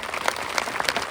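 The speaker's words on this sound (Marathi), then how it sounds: "या लेकरा जनावरी सर्वांनी टाळ्या वाजा." An audience at a speech rally claps, a brief burst of scattered, uneven handclaps at moderate distance.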